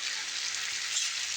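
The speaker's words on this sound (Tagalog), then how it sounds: "ayan kumukulo na nga" Steady bubbling sizzle of leftover sarsyado fish sauce boiling in a pan, a continuous close hiss with no voices.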